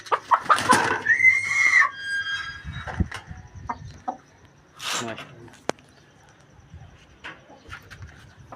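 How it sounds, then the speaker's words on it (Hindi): Aseel chickens, a rooster and hens, cluck and call nearby with a loud squawking burst at the start, then scattered softer clucks and rustling amid background voices. "ये जी मुर्गी अब न्यू होम में जाने लगी है।"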